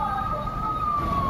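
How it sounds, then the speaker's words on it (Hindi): A siren, taken for an ambulance, passes along the busy Marine Drive roadside; a steady wailing tone drifts slowly downward as it goes by over loud traffic rumble. "अरे भैया एम्बुलेंस जा रहा हो"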